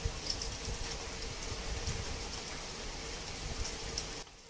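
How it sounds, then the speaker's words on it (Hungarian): Heavy rain pours down in a dense, steady hiss of drops hitting surfaces, continuing evenly before dropping away abruptly near the end. "Például ez a mai nap, amikor éppen zuhogni kezd az eső."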